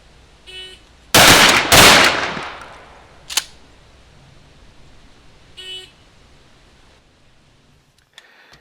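Two loud, close shotgun blasts go off in quick succession from a Remington 870 pump and a MAC 1014 semi-auto at an outdoor range, with sharp reports and a trailing echo, followed by a fainter pop and mechanical clatter.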